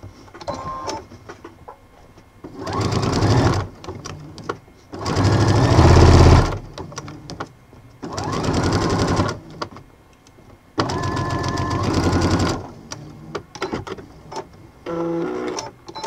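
A domestic sewing machine stitches bias binding onto a piece of fabric, running in several loud whirring bursts with quiet pauses between them and occasional small handling noises.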